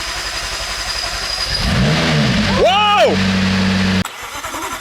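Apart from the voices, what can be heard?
wrecked McLaren 675LT engine starting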